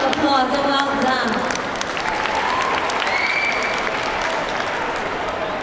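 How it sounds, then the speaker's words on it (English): Audience applause for young girl cheerleaders at a school cheerleading competition final, a dense steady clapping that fills the whole stretch, with faint crowd voices and whistles mixed in. "give them a round of applause, so well done"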